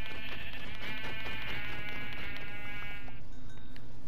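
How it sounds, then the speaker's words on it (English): Sheep in the Minecraft video game bleat over a steady buzzing game background, the calls repeating for a few seconds and then fading out. "we're going to try to get some of these sheep"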